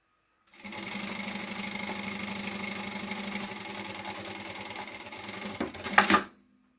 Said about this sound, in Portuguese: uma costura à largura do calcador, por cima aqui do bolso.